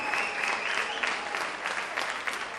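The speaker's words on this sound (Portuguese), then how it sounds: "Vocês podem aplaudir a Deus pela vida desses amados irmãos que estão aqui." Congregation at a church relationships workshop breaks into steady, sustained applause, a dense wash of clapping filling the room throughout with a faint hint of voices underneath.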